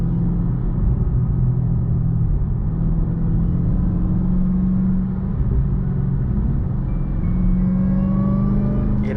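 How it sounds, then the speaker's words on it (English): A 2020 Dodge Charger SRT Hellcat Widebody's supercharged engine heard from inside the car, a steady, loud, low rumble with a faint higher whine riding on top, no talking. "I'll let y'all hear this Supercharger for a minute."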